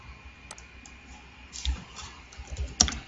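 Quick, light keystrokes on a computer keyboard, irregular taps in a quiet room with a few sharper clicks near the end, and no voices.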